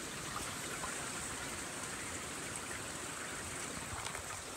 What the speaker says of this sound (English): There's water running underneath that.